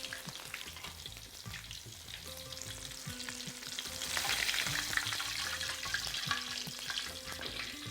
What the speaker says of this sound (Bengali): আমার মনে হয় আমাদের সুন্দর সোনালি ভাজা হয়ে গেছে।